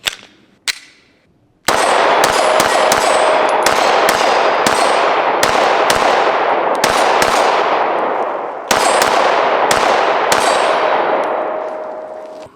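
Rapid semi-auto shots from a Springfield M1A .308 battle rifle with a walnut stock, fed from a translucent ETS Omega magazine with steel feed lips; loud sharp reports fire in a steady string of about a dozen, each ringing out, with no talking.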